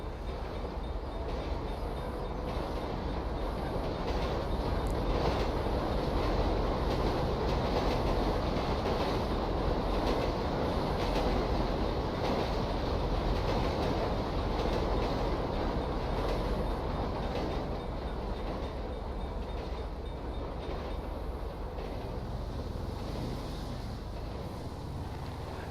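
Train passing in GTA's Los Santos, a steady rolling rumble with rhythmic rail clatter that swells and holds close for the whole stretch, with no voices over it.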